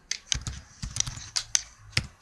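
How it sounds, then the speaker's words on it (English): Code being typed on a computer keyboard: a handful of sharp, close key clicks in an irregular rhythm, with quiet gaps between strokes. "you have to do a bit of typing in code"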